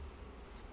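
Honeybees at a hive fitted with an extra entrance give off a faint, continuous buzzing hum in a brief moment.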